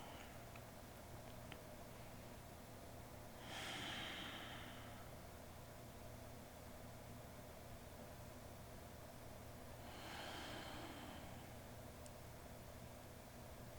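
Slow breathing in a yin yoga pose, two soft, faint breaths several seconds apart over a quiet room hum, with no talking.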